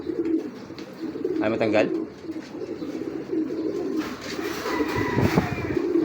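Pigeons coo in a breeder loft, with low repeated coos going on steadily close by under a person's voice and a few brief human sounds.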